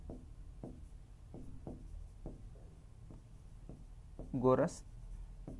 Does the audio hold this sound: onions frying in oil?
no